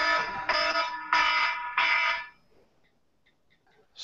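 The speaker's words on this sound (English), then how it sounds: "the alarm just went off" A fire alarm going off indoors, four loud harsh electronic blasts in a steady rhythm, followed by near silence with faint chirps and the start of another blast.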